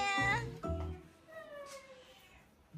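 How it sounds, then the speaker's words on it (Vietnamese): Cat meowing several times at home, loud and near at first with strained drawn-out cries, then softer trailing meows, with faint people's voices around it. "nó nghe tiếng mẹ nó meo liền."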